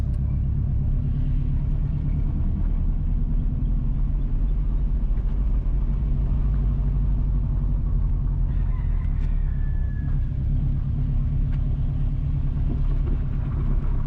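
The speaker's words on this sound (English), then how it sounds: "We are driving on Geddes Town Road." A car drives along Geddes Town Road in Geddes Town, St Mary Parish, Jamaica, its steady low engine and road rumble running unbroken throughout, with a faint rooster-like crow rising partway through.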